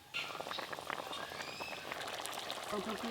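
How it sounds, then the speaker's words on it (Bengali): Fried shankar fish simmering in a spicy curry gravy, with steady bubbling and popping sizzle throughout, while a voice talks over the cooking. "এবার এই ঝোলের মধ্যে মাছগুলো একটু ভালো করে ফুটিয়ে নিলেই আজকের মতো শঙ্কর মাছ রান্না হয়ে যাবে।"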